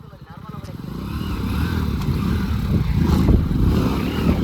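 Two small commuter motorcycles, a Splendor Plus and an HF Deluxe, rev their engines during a tug of war, a rough rising drone that swells and holds close by under voices.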